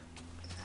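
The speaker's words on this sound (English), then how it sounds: "Bring that horse over here once." Horse hooves clip-clop in the Minecraft video game, a quiet, steady patter of game footstep sounds over a low background hum, with no talking.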